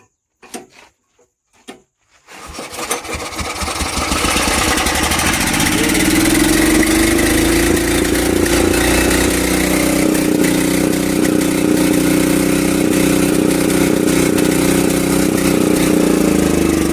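After a few quiet knocks, a Swaraj Code mini tractor engine starts following repair and settles into a steady, loud idle that runs on continuously without talk.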